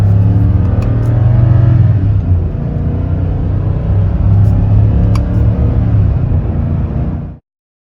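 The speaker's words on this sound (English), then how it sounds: "But if you downshift, the power really comes on, and you know you've got a V8 under the hood." Ford F-150 with a 5.0 V8 revving hard on a downshift: a loud, steady, close engine rumble holds for about seven seconds before cutting off abruptly.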